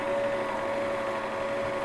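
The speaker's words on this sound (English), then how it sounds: "Talk amongst yourselves while I just wind my bobbin up" A sewing machine winds a bobbin with a steady, even mechanical whir and a constant tone, close and continuous throughout.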